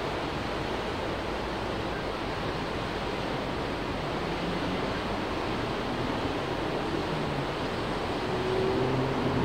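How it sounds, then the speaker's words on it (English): A mountain stream flows near Bachalpsee in the Swiss Alps above Grindelwald, a continuous broadband rush of water that stays steady and fairly loud throughout, with no voices. "We've got a stream flowing down here as well"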